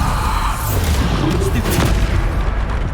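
Booming spell blasts and impacts from combat in Hogwarts Legacy, dense and continuous, layered over low rumbling effects with a voice partly mixed in.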